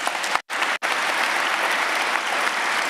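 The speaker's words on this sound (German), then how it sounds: "Wie klingt ein Applaus der Stufe 5?" Steady, moderate applause from a live audience at a German ancient-history science slam, dense clapping sustained throughout with two abrupt brief cutoffs near the start.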